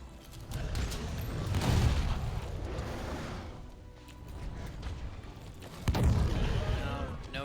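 Heavy cannon fire thumps out in a Monster Hunter World: Iceborne hunt, with two big booming blasts amid the clatter of the fight, under someone talking.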